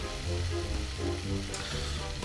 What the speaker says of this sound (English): There you go, onion in.